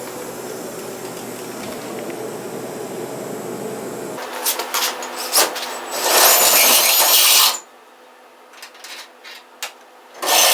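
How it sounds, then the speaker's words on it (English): A power drill whirs into the metal floor of a Chevy C10 truck in bursts, a steady grinding run building to a loud, harsh stretch, then short sharp bursts after a brief pause. "so I'm going to drill them now"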